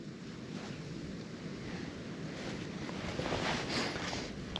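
Wind gusts rush across open water, with a steady washing of small waves and microphone buffeting, rising slightly toward the end.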